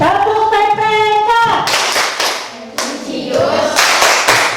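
A group of Indonesian schoolchildren performs the 'tepuk PPK' clapping chant, voices chanting together over a brisk run of crisp, close hand claps.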